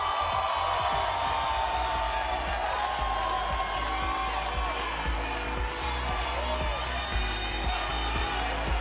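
Audience at the Mexicana Universal 2018 beauty pageant gala applauding and cheering the top 10 contestants; a steady crowd roar with scattered clapping and bursts of cheers across the whole stretch, with a presenter speaking over it.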